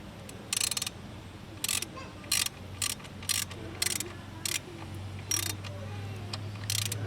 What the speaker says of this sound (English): Let's see if I can get in there with a socket.